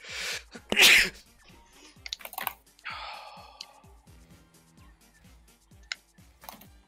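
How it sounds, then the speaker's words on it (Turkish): One loud, sharp sneeze bursts out close by, followed by a few softer breathy sounds and light clicking in the background, during Rocket League play. "Hapşıracağım hayır"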